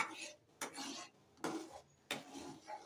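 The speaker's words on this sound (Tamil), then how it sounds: "கொஞ்ச நேரம் ரவா வேகிற வரையும் கிண்டிகிட்டே இருக்கும்" Semolina (rava) being stirred in a pan for kesari, with a few bursts of spoon scraping against metal in an uneven rhythm and short pauses between strokes, close and fairly quiet.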